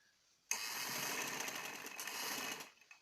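A sewing machine stitches a neckline on a peplum top in one steady burst of rapid, even whirring that starts abruptly, runs about two seconds and then stops.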